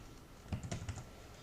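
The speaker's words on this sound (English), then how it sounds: "You'll start typing their name" Soft keystrokes on a computer keyboard as a name is typed, a brief cluster of four or five quiet clicks in a quiet room.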